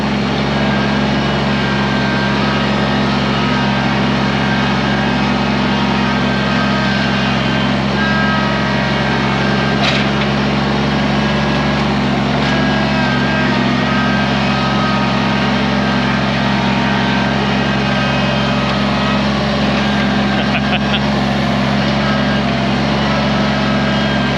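A Kubota BX compact tractor pushes logs toward a wood pile, its engine a steady, loud, close drone that holds an even pitch throughout, with faint scrapes riding on top.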